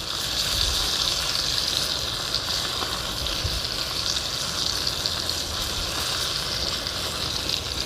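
A T-bone steak pan frying, rubbed with herbs, sizzles loudly and steadily with a dense, continuous hiss throughout and no talking.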